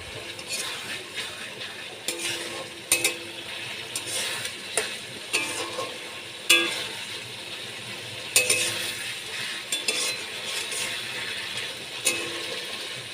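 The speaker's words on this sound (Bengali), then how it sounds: "মাছ দিয়ে আমি ভালো করে কষিয়ে নিচ্ছি" Fasha fish being sautéed in a pan with spices for a kalojira curry, a steady sizzle broken by repeated scraping and stirring strokes of a spatula against the pan, close and moderately loud with no voices.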